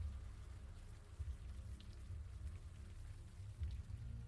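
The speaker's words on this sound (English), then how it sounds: "Jesus, is this rain ever gonna stop?" Rain falling in the video game Unavowed, in a Chinatown scene: a steady, dense hiss of rainfall with a low rumbling bed and faint scattered drops, continuous and even throughout, no talking.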